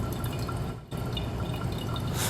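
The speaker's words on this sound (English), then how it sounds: "when I'm adding water, I'm going in nice circles, making sure that I'm wetting every part of the coffee bed" Water poured from a kettle in slow circles onto a pour-over coffee bed, a steady close trickle and splash with a brief dip partway through and no talking.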